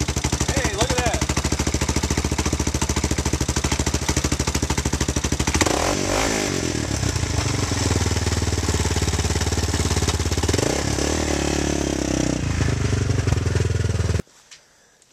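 A motorcycle being wet-started on choke runs with a loud, rapid, hammering idle close by, its clatter steady before a couple of revs, then it shuts off abruptly near the end; a voice speaks faintly under it.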